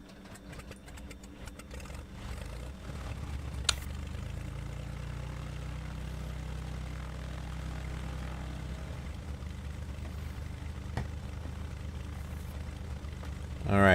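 In Flight Simulator X, a simulated propeller airplane engine starts up and settles into a steady, droning idle, a continuous low rumble with a couple of faint clicks.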